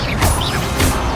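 In the Hogwarts Legacy video game, an Incendio fire spell bursts out in two loud, rushing whooshes of flame within about a second.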